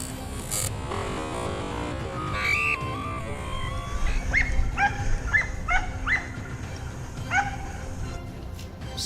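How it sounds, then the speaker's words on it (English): Hunting dogs tracking wild boar at night by a vineyard's edge give a series of short yips and barks at middle distance, loosely rhythmic bursts over a low rustling background. "The hunting dogs fanned out, scouring the thickets to track down the wild boars."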